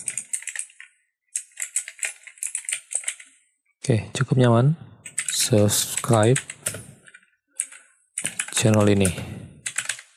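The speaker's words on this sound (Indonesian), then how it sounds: "Oke, saya coba ngetik sembarangan." Quick bursts of typing on a FOREV FV-Q609 mechanical gaming keyboard with sharp clicky keystrokes, fired off in clusters of random presses and broken by short pauses, while someone speaks between and over the keys.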